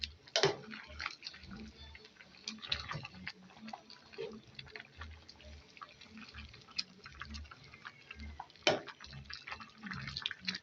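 Pasta boiling in a pot of water, a soft, irregular bubbling and light ticking drips that keep on steadily throughout, fairly quiet, with a few louder pops and no talk.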